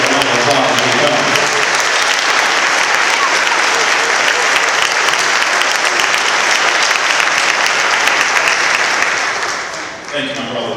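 A church crowd at a town meeting rally bursts into loud, sustained applause for a senator arriving to speak, dense clapping that holds strong for several seconds before tapering off.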